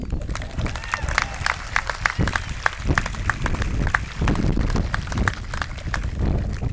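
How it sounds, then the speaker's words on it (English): A graduation audience cheers and applauds for the valedictorian, a dense, continuous wash of clapping and crowd noise with sharp claps scattered throughout, fairly loud and sustained for the whole stretch. "We can cheer for her."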